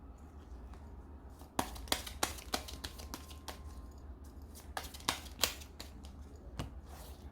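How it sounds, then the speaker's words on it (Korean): Tarot cards being drawn from a deck and handled on a table give a scattering of sharp, crisp snaps and slaps, some in quick pairs, over a low steady background. "자, 이것도 보조 카드 한번 뽑아볼게요."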